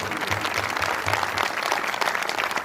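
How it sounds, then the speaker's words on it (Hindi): Loud, steady applause from a church congregation honoring the Holy Spirit during a Christmas sermon, dense clapping filling the hall throughout with no talk over it. "जोरदार ताली हो जाए पवित्र आत्मा जी के लिए"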